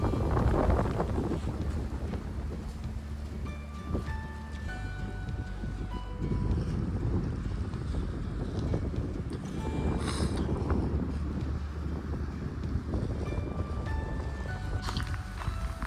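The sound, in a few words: gale-force wind on mountain trail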